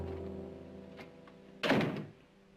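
A door swings shut with a single solid thud partway through, loud against a quiet room with a low steady hum beneath.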